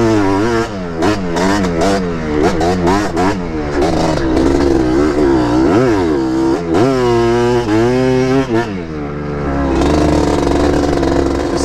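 Yamaha Tri-Z 250 three-wheeler two-stroke engine revving hard on rough sand dunes, loud and close with rapid rising and falling pitch sweeps, choppy blips early, then longer sustained pulls.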